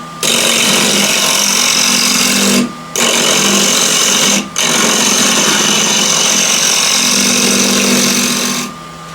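A wood lathe spins a bowl being shaped with a scraper, a loud steady whirring hum broken by two brief drops where the tool lifts, then winding down at the end.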